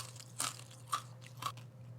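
Crispy roasted French lentils, slightly burnt, crunched in the mouth: three distinct close crunchy bites at a steady pace over a faint low hum, with soft chewing between them.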